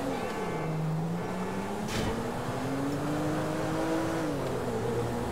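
Car driven in the video game GTA 5, a continuous engine drone rising and falling in pitch as it accelerates, with a brief bump partway through.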